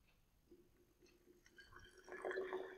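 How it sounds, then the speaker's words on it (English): Hot water is poured into a black container, a quiet trickle that builds into a louder, splashing fill near the end of the short stretch. "pour in my 250 mils"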